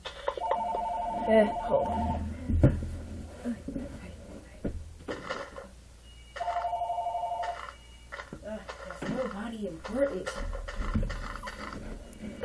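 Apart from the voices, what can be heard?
telephone ringing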